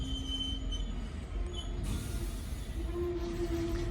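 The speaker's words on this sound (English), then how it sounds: "the freight is now moving again" A freight train at Bristol Parkway station moves off, its wheels giving thin, sustained high squeals over a low steady rolling rumble, heard from a moderate distance.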